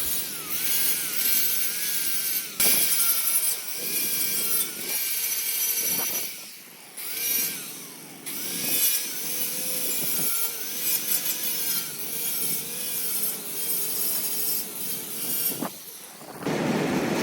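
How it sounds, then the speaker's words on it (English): A flap wheel on a grinder strips paint from a damaged aluminum gate, a steady loud abrasive whir with brief pauses and restarts throughout, no talking. "now I'm back to the flap wheel. We're gonna lightly take off the paint."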